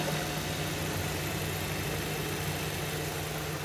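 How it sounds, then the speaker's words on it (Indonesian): A 2019 Suzuki Ertiga GL manual with a 1500cc engine idling, giving a smooth, constant low hum with a steady drone and faint vibration, close up and uninterrupted. "sekarang kita cek suara mesin di mobil R3 GL tahun 2019 ini"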